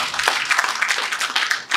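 An audience at a public event in Zangnando applauds to thank President Talon, a dense, steady burst of many hands clapping, close and loud with no voices over it.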